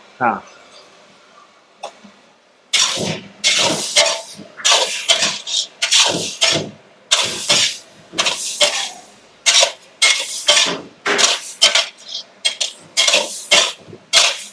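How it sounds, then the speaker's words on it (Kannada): Onions mixed with turmeric powder in a pot produce repeated scraping and clanking of a spoon against metal in uneven strokes, close and fairly loud, with a few faint voices early on. "2 ಸ್ಪೂನ್ ಅರಿಶಿನ ಪುಡಿ ಹಾಕ್ಕೊಂಡು ಈಗ ಮಿಕ್ಸ್ ಮಾಡಿ"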